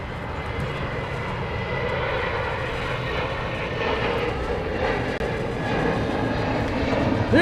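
An Air Premia airliner bound for Seoul passes near LAX, its engines making a broad, steady roar that holds throughout and grows slightly toward the end, with no talk.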